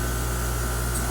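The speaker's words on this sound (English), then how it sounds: "Alright, so I'm going to spray." Spray paint hisses from a can onto a model kit part in one steady, close burst of airy noise lasting about a second.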